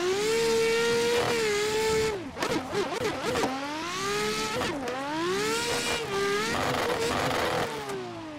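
A Nissan R33 pro drift car engine in a racing video game revs hard and loud, rising and falling through gear changes with sweeping harmonic whines and brief bursts of chatter between pulls.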